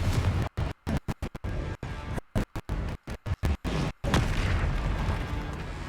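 Repeated magical spell blasts and booms erupt in Hogwarts Legacy combat, a choppy run of bursts with abrupt gaps, then a longer rumbling explosion to close, loud and with no clear speech.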